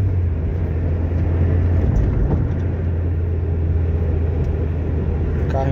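A Ford Escort with a naturally aspirated CHT engine drums steadily while the car is driven, a constant low rumble with road noise throughout, and faint talk mixed in underneath.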